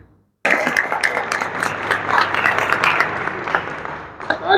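Applause at a company awards party for Suzuki Central Motors staff, a dense crowd of clapping that starts abruptly and holds steady for several seconds before thinning slightly near the end.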